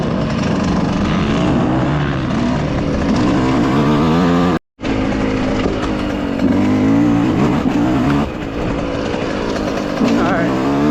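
Dirt bike engines roar along a trail close to single track, a loud, continuous rough drone that rises and falls with throttle, broken by one brief dropout, with a rider talking over it.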